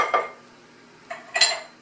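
A spoon scrapes and clinks against a bowl while cornstarch and salt are mixed, one short knock followed by a pause and then two quick clattering strokes close by.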